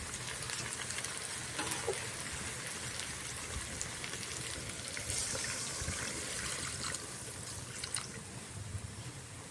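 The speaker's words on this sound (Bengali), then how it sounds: "এবার আমি দিয়ে দেবো জল" Hot water goes into a pan of chicken curry, where the meat has been fried down in oil, setting off a loud, continuous sizzle and bubbling crackle close by, with no voice over it.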